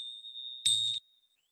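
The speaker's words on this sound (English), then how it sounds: "I'll ring my chimes" Yoga chimes rung at the start of a class, one clear, sustained bright tone with a brief louder shimmering strike near the end, quiet and close, fading out with no voices.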